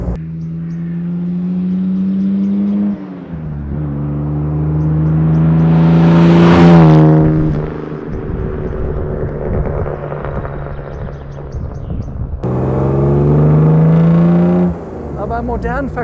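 A 1954 Jaguar XK 120 accelerates hard, its engine note climbing loudly through the revs and dropping at gear changes, then rising again, close and prominent throughout.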